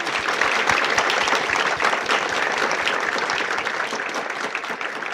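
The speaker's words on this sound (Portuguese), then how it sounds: "Calorosa salva de palmas." A congregation at a monthly thanksgiving church service gives warm applause in honor of Father's Day, loud, dense clapping from many hands sustained close throughout.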